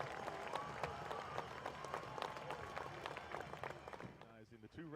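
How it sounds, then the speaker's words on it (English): A football-game crowd applauds scholar athletes with sustained clapping and cheering from the stands. It tapers off near the end as voices take over. "Let's have a great big round of applause for both Rivalry Series Scholar Athletes, Nate Johnson and Grant Edmondson."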